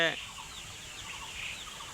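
Sonali chicks at a wholesale poultry market give thin, high peeping chirps that start with a brief louder burst, then carry on as a faint, scattered background chorus.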